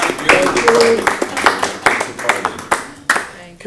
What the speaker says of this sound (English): I would like a round of applause for our departing member.